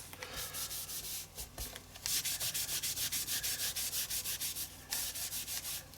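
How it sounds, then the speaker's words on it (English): Paper rubbed hard against an art journal page for a Halloween witch collage, a steady run of quick rhythmic scrubbing strokes, close and fairly loud, with brief pauses between bursts. "some areas you may have to rub just a little bit harder."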